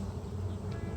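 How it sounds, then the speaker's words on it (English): A steady, low drone of honeybees on a warm January day fills the whole second, a dense close-up buzz without pauses or voices. "I got bees all over me."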